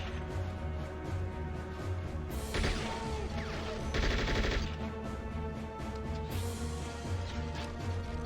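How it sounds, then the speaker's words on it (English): AK-74 rifle fire in Conflict Desert Storm, with two loud bursts of rapid automatic shots sharply standing out over a busy background of combat noise and music. "Let's nail them with the AK-74"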